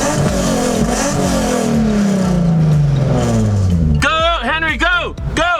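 A car engine revs hard up close among a group heading out, with excited voices shouting over it and a rising, falling whine near the end.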